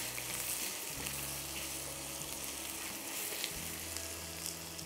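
Garlic and ginger fry in a pan with a soft, continuous sizzle, broken by a few scraping stirs, heard close and fairly quiet with no talking.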